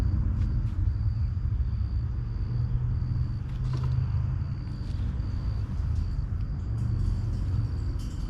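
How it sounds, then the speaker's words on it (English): Distant traffic on Highway 62 gives off a constant low roar throughout, steady and unbroken in the background, with a few faint clicks and a thin high tone on top. "You can hear that roaring in the background. We live close to Highway 62."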